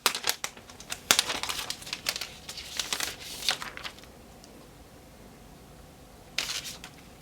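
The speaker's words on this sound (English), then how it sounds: "We'll remove the protective film." Thin protective plastic film peeled off a new iPad Pro Smart Keyboard during unboxing, a close series of crisp crinkles and rustles, then a pause and one last short crackle.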